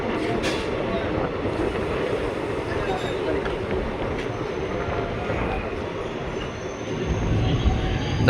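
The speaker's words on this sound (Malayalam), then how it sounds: "തേർഡ് പ്ലാറ്റ്ഫോമിൽ ഒരു വണ്ടി ഉണ്ടല്ലോ." A passenger train rumbles at a station platform, steady broadband roar close by with voices chatting over it throughout.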